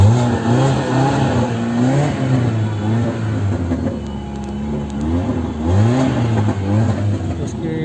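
A Tata Indigo Manza engine with no exhaust system revs up and down in repeated rising and falling surges, loud and close, with a raspy unmuffled tone and someone talking over it.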